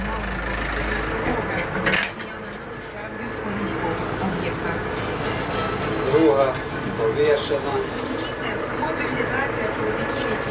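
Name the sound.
tractor engine running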